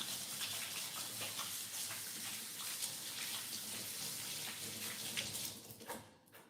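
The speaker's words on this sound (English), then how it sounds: "I'm just gonna wash my hands" Water runs steadily from a tap into a sink during handwashing, a continuous close splashing hiss that tapers off at the end.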